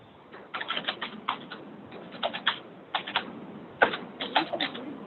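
Keyboard typing over an open phone line during a city council meeting, a run of quick clustered keystroke clicks in bursts, fairly close and moderately loud, with no talking.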